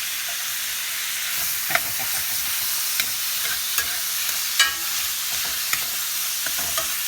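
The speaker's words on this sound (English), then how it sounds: "That's a happy little sizzle" Beef tips for bulgogi sizzle with garlic in a hot pan, a steady close hiss of frying broken by a few sharp clicks and scrapes of stirring, with no talking.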